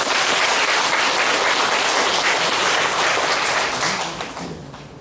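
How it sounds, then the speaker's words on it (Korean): A church congregation gives big applause for a newly married young couple: thick, sustained clapping from a crowd that stays loud for about four seconds before tapering off. "김기성 우리 청년 가정을 위해서 큰 박수를 부탁드리겠습니다"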